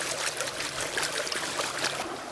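Gravel swirls and sloshes in a gold pan held in creek water, a close, continuous watery rush and gurgle over a brief moment.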